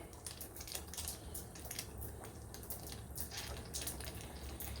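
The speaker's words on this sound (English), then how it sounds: "It'll kind of spurt out a little bit of water here for a second." Water sputters and hisses in uneven bursts from the line of a US Steam Falcon steam cleaner as it bleeds, a steady wet spray with short spurts, fairly close and without any voices.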